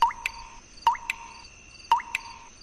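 Cartoon effect of chemical medicine being poured onto gourd plants: three evenly spaced, bright bubbly plop-and-drip blips, each with a quick chirpy follow-up, clear and close against a quiet background.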